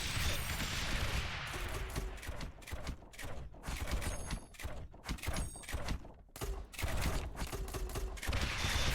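Mortar towers in a video game fire at advancing enemies, heard as a loud, dense barrage of repeated booming shots and thuds in an uneven rhythm that stays busy almost throughout.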